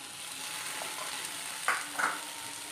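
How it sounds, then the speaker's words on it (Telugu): Chickpeas fry in a pan with a soft, steady sizzle while a utensil stirs them, adding a couple of light scraping clinks, quiet and close. "బాగా ఫ్రై చేసుకోవాలి."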